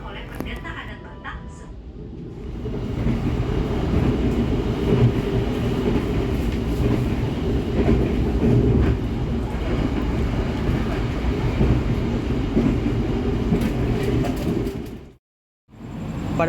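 Jayakarta passenger train arriving at Jatibarang station in Indramayu Regency, heard from inside as a continuous loud rolling rumble with faint clatter, dropping briefly to near silence toward the end before resuming.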